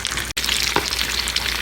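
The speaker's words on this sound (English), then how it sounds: "I'm just going to fry them in the pan until they get crispy" Tacos fry in hot oil in a pan with a steady, dense crackling sizzle, close and loud, briefly broken by a short gap and a soft stir.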